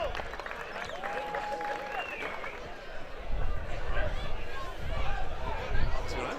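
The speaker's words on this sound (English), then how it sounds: "Big round of applause for the seniors." A crowd at a 50th-anniversary club gathering bursts into applause for the senior members, with clapping and cheering that grows louder partway through and mixes with background chatter.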